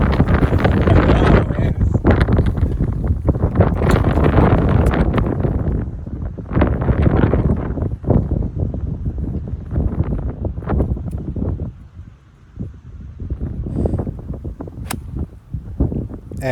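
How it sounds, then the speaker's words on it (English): Strong wind sweeps across a golf course, roaring and buffeting the microphone in loud, continuous gusts that ease briefly before surging again. "that wind really picked up again"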